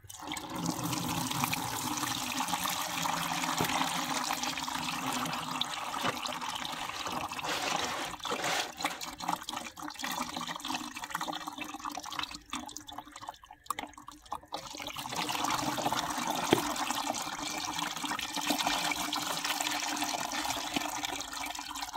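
Liquid fertilizer made from kitchen waste is poured through a strainer into a container, giving a steady, close trickle and splash that runs almost continuously, with a short lull partway through.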